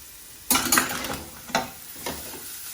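Mushrooms seasoned with salt and pepper sear in a pan, giving a steady sizzle broken by a few sharp bursts of stirring and scraping against the pan.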